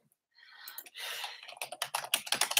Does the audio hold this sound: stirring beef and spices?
no